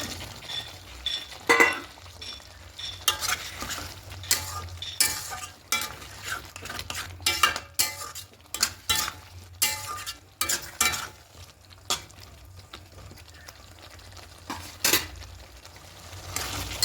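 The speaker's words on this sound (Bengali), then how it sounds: "খুব ভালো করে কষিয়ে নিচ্ছি" Potatoes, peas and capsicum sautéed and stirred in a pan for a vegetarian potato paneer curry: a low sizzle under frequent scraping strokes and occasional metallic clinks, close by and uneven in rhythm.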